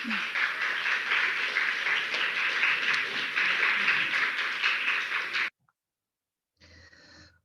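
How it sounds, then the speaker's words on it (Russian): Audience applause at a competition rolls on steadily for about five seconds, full and fairly close, then cuts off abruptly into silence before a short, faint burst of sound near the end. "Аплодисменты, пожалуйста."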